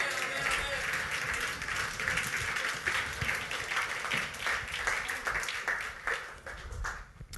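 A church congregation applauding and cheering for Jesus during a French-language sermon, sustained dense clapping and crowd voices throughout, steady and fairly loud.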